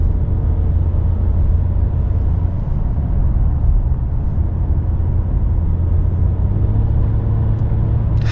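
A Mercedes-Benz E350 AMG Line 4MATIC drives in comfort mode, a steady low engine and road rumble heard from inside the cabin, smooth and continuous without pauses.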